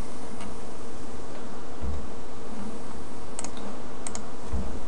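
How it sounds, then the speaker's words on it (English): A sudo password typed on a computer keyboard during an Ubuntu software installation: a short run of light key clicks over a steady background hiss, with no talking. "So we'll go ahead and type that in."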